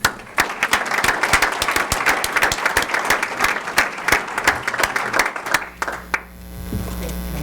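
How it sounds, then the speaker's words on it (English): Audience members at a school board meeting applaud employees with loud, crisp hand claps that fade after about five seconds, leaving a steady electrical hum. "let's another big round of applause for our employees"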